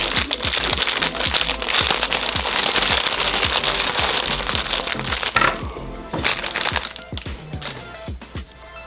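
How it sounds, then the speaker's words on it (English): Plastic packaging holding G.I. Joe APC upgrade parts is torn and unwrapped, a loud, dense crinkling and crackling that lasts throughout, then thins into scattered rustles near the end. "Let's go ahead and unwrap this."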